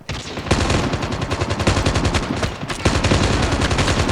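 Rapid automatic gunfire from Call of Duty Mobile, loud and continuous bursts with dense repeated shots, pausing briefly near the start and again midway.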